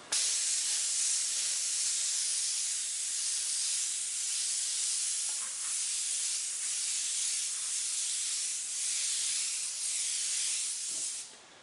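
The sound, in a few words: spray paint can spraying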